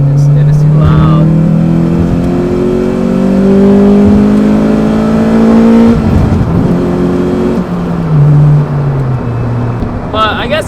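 Acura TSX cruising on a freeway with an aftermarket shifter fitted, a steady loud engine drone with shifting pitch and road roar throughout, and a voice speaking over it.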